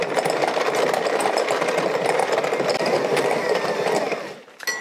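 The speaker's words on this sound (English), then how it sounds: "I'm going to pop my butter into my mixing bowl. And we're going to give that a very quick mix just to soften it up" An electric mixer beats butter in a mixing bowl with a dense, loud, steady whir that runs continuously and tails off just before the end.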